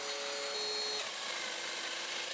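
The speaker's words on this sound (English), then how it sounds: "I grabbed the domino joiner and started cutting the mortises" A Festool Domino joiner plunges into wooden bed rails to cut mortises for loose tenons, a steady, fairly quiet whirring hum with a faint whine that shifts slightly partway through.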